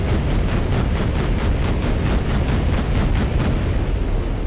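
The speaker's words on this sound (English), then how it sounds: "Man, I love those build engine explosions" Rumbling, roaring explosions from the Build engine in the Duke Nukem 3D video game pile up continuously, dense and loud, with rapid repeated blasts pulsing through a heavy low-end wash.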